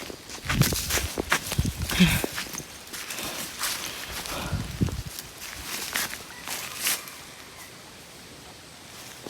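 Quick, irregular running footsteps of someone fleeing during a chase after a bag thief, close by with scuffing and rustling, loudest early on and then fading into background noise.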